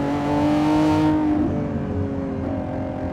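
A 2025 Lamborghini Revuelto's engine revs hard on a canyon drive, a loud, close, sustained high-pitched wail that eases off partway through into a lower steady drone, with no talking.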